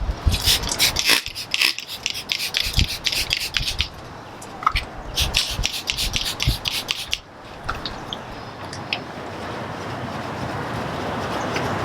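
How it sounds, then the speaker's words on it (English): A clay bar with lubricant rubs over the paint of a never-detailed car, making close, gritty back-and-forth scrubbing strokes that ease into a smoother, steady drone. "as you start claying, it might feel a little rough and drag, and then as you keep going, it'll get nice and smooth."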